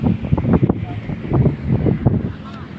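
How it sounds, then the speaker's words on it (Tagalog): Strong waves and gusty wind at sea off Quezon, surging rough water with steady wind buffeting the microphone, with voices talking over it. "Ang lakas lang ng alon"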